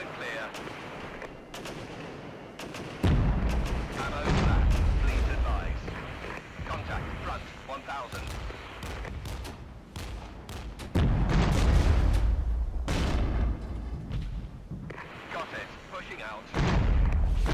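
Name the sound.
artillery and gunfire in a video game (Regiments)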